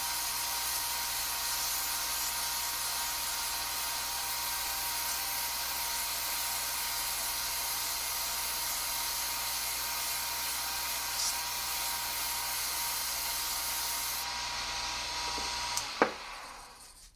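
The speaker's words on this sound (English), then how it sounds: "I do sand the outside of the box while it's on the lathe. I start out with 320 and go cross grain." A wooden box spins on a lathe while 320 grit sandpaper is held against it across the grain, giving a steady whirring hiss over the motor hum that cuts out near the end.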